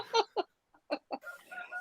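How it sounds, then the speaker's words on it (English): A broken toy rooster goes off indoors, giving a few quick clucking bursts with gaps between them and then a longer crowing tone, fairly faint and not very close. "broken rooster that goes off in the middle of the day"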